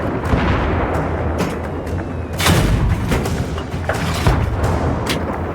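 A tank's cannon fires in the video game Battlefield 3 amid a dense, loud wall of battle noise, with heavy booms punching through continuous rumbling explosions and gunfire.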